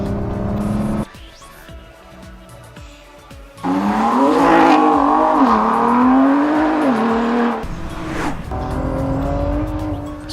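A 2017 Ford GT race car laps a circuit, its engine loud and close with rising and falling revs, a brief lull, then a sustained strong run as it accelerates past.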